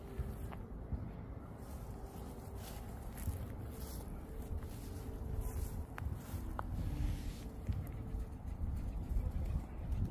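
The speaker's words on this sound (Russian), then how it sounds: "смотри, голуби тебя не боятся" Pigeons coo softly against a low, steady outdoor rumble, with faint scattered chirps and light rustling nearby.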